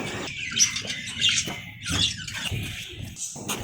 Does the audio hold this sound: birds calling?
yes